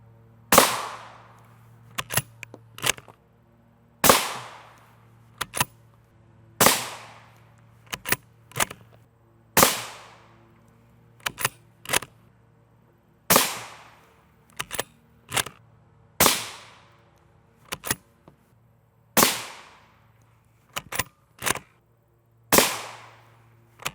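Repeated gunshots fired at an NIJ Level III+ body armor plate during testing with copper-core, steel-tipped rounds: sharp loud reports, each with a decaying tail, mostly spaced a couple of seconds apart and sometimes in quick doubles, with no talking.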